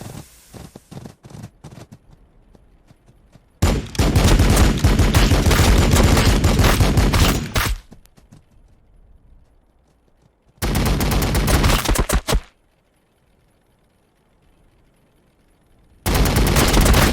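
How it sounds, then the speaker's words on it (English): Bursts of automatic gunfire from units in the Warhammer 40k: Battlesector strategy game, three loud sustained volleys of rapid shots separated by near-silent gaps, with lighter scattered shots at the start. "the assigned unit will open fire on any enemies moving into the vicinity out of turn"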